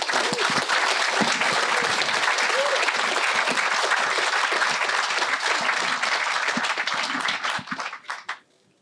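A forum audience gives a loud, dense round of applause for supporters who sent letters to prisoners, sustained evenly for several seconds before tapering off abruptly at the end.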